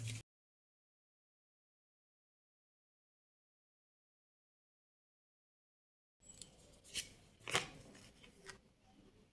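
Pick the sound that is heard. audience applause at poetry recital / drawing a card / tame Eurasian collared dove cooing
drawing a card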